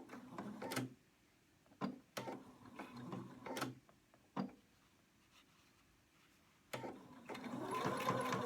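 A sewing machine stitches a blouse seam in short separate bursts, quick rattling runs of the needle with quiet pauses between them, then a longer steady run at the end, all close by and with no talking.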